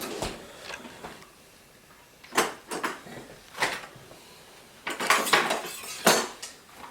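Metal kitchen utensils clatter and clink against pots as someone rummages through a drawer for a spatula, in scattered bursts of rattling with quiet gaps between, close and fairly soft.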